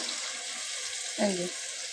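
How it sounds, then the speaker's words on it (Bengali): Water is poured briefly into a freshly washed bowl while cabbage bhapa is being made, a short splashy burst lasting about a third of a second over a steady hiss of kitchen background. "বাটিটা ধুয়ে আমি একটুখানি জল দিয়ে দিলাম"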